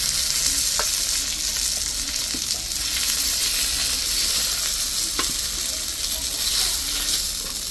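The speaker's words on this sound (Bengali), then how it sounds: "পিঠে উপর করে সুন্দর করে লাল লাল করে ভেজে নিচ্ছি" Pieces of katla fish fry in hot oil, a steady dense sizzle with occasional sharp pops and light stirring, close and continuous throughout without talking.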